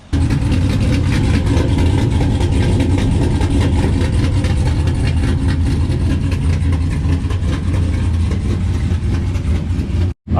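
Idling V8 in a 4th-gen Ram truck fitted with Stainless Works long tube headers and exhaust, a loud, steady low rumble close up that runs unbroken and then cuts off abruptly at the end.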